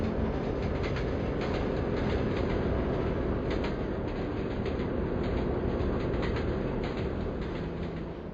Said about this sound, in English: the train made its way out of the canyon and was now gaining speed on its final leg to